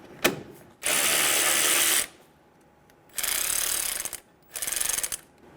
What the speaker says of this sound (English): Using a 10mm socket, remove the bolt for the coolant reservoir.